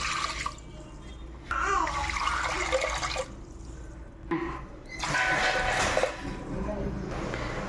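Water pours in two gushing bursts, splashing into a cooking pot of rinsed rice for coconut milk kanji, with a short pause between them and a faint voice in the background.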